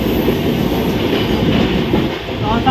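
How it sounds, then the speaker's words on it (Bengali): A long-distance express train runs at Panagarh station, a loud steady rumble of wheels and carriages close by, with faint squeals near the end and voices barely audible underneath. "এখন ট্রেন চলে এসছে পানাগড় স্টেশনে"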